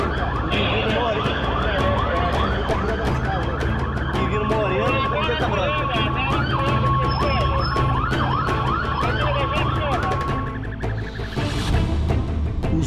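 Police car siren wailing continuously during a chase after market robbers, a loud cycling yelp and wail close by with engine and street noise underneath.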